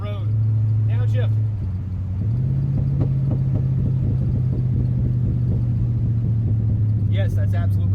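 A Buick Wildcat rumbles steadily along a road, its engine note changing pitch at a downshift, with brief voice-like sounds near the start and end.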